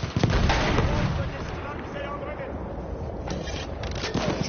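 A bomb goes off in Battlefield 1 gameplay, a heavy close blast at the start followed by rumbling battle noise and scattered pops and cracks, with some voice chatter mixed in.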